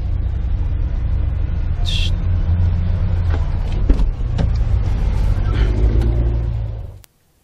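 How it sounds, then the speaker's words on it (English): Chevrolet Camaro SIX engine with dual mode exhaust at a premiere event, a loud, steady deep rumble held for about seven seconds before cutting off abruptly, with faint background noises above it. "that dual mode exhaust, it sounds European"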